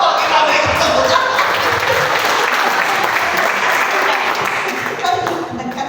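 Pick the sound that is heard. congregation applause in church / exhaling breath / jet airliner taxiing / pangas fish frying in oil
congregation applause in church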